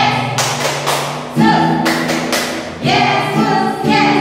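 Sunday school children at a Palm Sunday church service clap together in rhythmic groups of sharp, close claps, rising and falling in loudness across several seconds.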